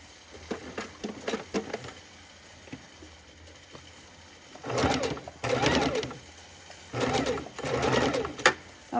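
A sewing machine stitches raw edge appliqué in short stop-start bursts, first brief taps and then longer runs, close up with faint background sounds.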